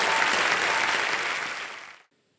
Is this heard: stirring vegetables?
no